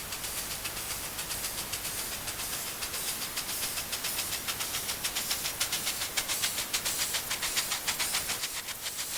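A Chinese QJ-class steam train chuffs past in a rapid, rhythmic beat, its hissing exhaust growing louder and nearer before easing off slightly.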